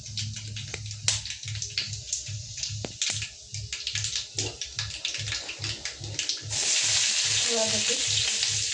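Peanuts sputter in hot oil with cumin and mustard seeds, a close, busy sizzle. Irregular crackles and pops are joined by a rhythmic low thumping, and the fry swells to a louder, denser hiss near the end.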